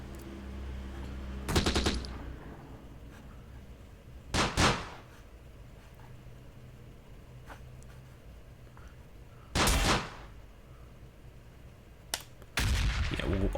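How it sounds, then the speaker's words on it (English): 60mm mortar rounds fire in Close Combat during a Sicily campaign battle, five sharp, loud reports spaced a few seconds apart, each cutting through a low, quiet background rumble. "Alright, well, we've got some mortar rounds to fire."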